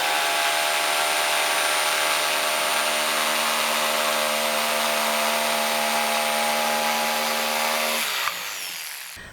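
A power saw cuts a sheet of plywood for a van's sub floor, a loud continuous whine and rasp that holds steady for about eight seconds, then winds down and stops.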